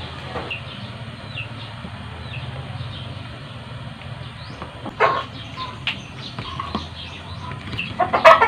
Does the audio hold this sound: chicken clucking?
yes